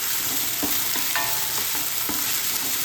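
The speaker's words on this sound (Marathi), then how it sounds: "तेल सोडायला लागले, छान आलं लसूण परतून झाले आपली" Ginger garlic paste frying in oil after onions have browned, for a Maharashtrian mutton gravy: a continuous bright sizzle with occasional soft spoon scrapes and taps, close up, no talking.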